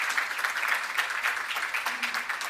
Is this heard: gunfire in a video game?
no